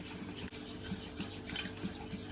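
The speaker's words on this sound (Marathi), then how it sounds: "दही फक्त असं फेटून घ्यायचं आहे चांगलं आता दहीच्या सगळ्या गुठल्या आपण फोडून घ्यायच्या आहेत" Curd being whisked in a bowl to break up lumps: quick, rhythmic clinking and scraping strokes of a utensil against the bowl, close and moderately quiet, with no talking.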